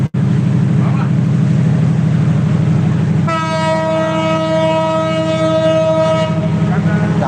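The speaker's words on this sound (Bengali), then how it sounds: "এখন ট্রেনটি আবার চলে যাচ্ছে" A loud, close train departing Joydebpur station rumbles steadily along the tracks, then its horn blares in one long sustained blast before fading back to rolling noise.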